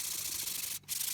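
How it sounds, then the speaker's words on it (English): Sanding a shaped wrought iron cobbler's hammer with 120 grit abrasive, a steady close-up scratchy rubbing that runs continuously with one brief pause near the end. "So I'm just sanding it up after the shaping was done"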